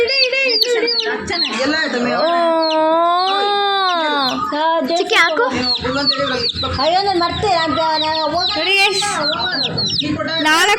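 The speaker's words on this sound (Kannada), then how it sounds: "ಇವರು ಕೋಳಿ ಮರಿ ತಗೊಂಡ್ಬಂದವ್ರೆ ನೋಡಿ" Loud, continuous high-pitched peeping and chirping from young Giriraja chicks close by, overlapping calls with no pause.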